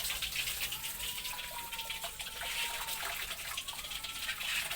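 Taro stalks are washed in water, a steady close gush and slosh of running water with light handling sounds throughout.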